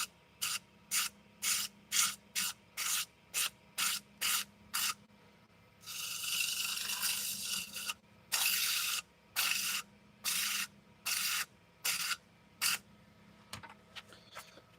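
Burnishing a timber surface after flattening it: a long run of short, evenly spaced rubbing strokes, then a few seconds of continuous scraping and more strokes, close and clear with no talk.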